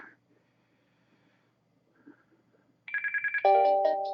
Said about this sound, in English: Oh, that's my phone going